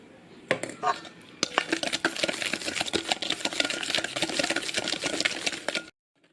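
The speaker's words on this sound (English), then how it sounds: "Just cream the butter until the color of the butter is like kind of thin" An electric mixer creaming butter for cookie dough, a steady close whirring with rattling beaters against the bowl that stops abruptly.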